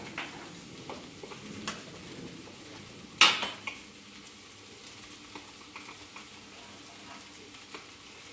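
Rice, onion and white chile being mixed in a pan, quiet frying with light utensil clinks and one sharp metallic clatter partway through, no talk.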